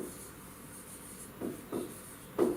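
Faint marker strokes on a board during a lecture on non-destructive testing, heard as a few short scratchy rubs over a quiet room hum.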